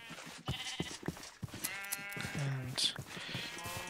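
Sheep in a video game bleat several times in short wavering calls, mixed with game sound effects and a voice talking over them.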